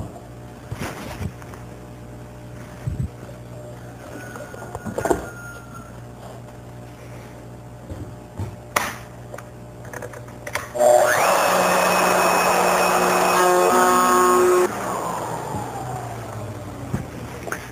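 A router excavating a wooden bowl blank, with scattered knocks and shuffles before a loud steady whine and rasping cut starts partway through, runs several seconds, then winds down.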